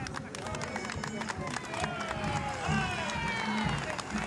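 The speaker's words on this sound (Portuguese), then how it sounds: "Aplausos para os dois corredores do Porto que se apresentam assim a solo nesta subida final da tirada." Roadside spectators applaud and cheer as two cyclists climb alone on the final ascent of a stage of the 79th Volta a Portugal, from Lousã to Guarda. Dense clapping and crowd noise run steadily throughout, with a commentator talking over it.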